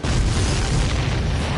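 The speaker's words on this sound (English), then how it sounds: "Did you see that explosion?" Explosion in the air-combat video game Ace Combat 7, a loud sustained booming roar filling the whole moment with no voices over it.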